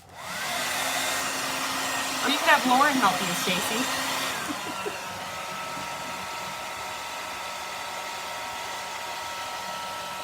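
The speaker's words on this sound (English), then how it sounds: "So I'm just going to use my hairdryer" A hair dryer blows with a steady, close whooshing roar, drying sprayed DIY mercury glass ornaments, first loud then dropping to a lower setting, while someone talks briefly over it.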